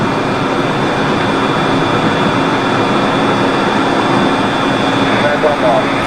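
Learjet engines roar during the takeoff roll toward rotation, a loud, steady broadband rush with a faint high whine running unbroken throughout, as heard from inside the aircraft.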